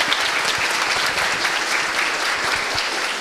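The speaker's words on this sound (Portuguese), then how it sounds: "Salva de palmas para Camila." Loud, dense applause from a conference audience after a tech talk on API Platform, an even, sustained burst of many hands clapping with no voices over it.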